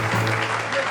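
An audience applauds a performer at a live show, with a brief, steady burst of clapping throughout.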